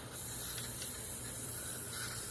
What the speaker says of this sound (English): I'm going to spray some of this on my paper towel.